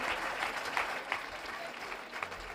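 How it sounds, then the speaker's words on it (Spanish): Students from the San Jorge school, seated as the audience on a Spanish morning studio program, clap in a brief, lively round of applause at moderate volume, with scattered sharper claps standing out. "Un aplauso, por favor, a los alumnos de la San Jorge"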